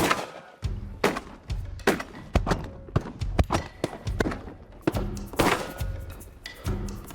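Rapid volley of shotgun blasts fired at a goose outdoors, a dozen or more sharp thumping reports in quick irregular succession, close and loud, with scattered movement noise between them.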